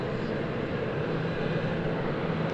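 Steady low roar of an ITA Airways Airbus A320's engines running up before takeoff, loud and continuous with a faint radio voice underneath.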